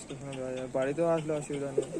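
Pigeons coo close by in a few short, throaty, rising and falling phrases that follow one another without a break.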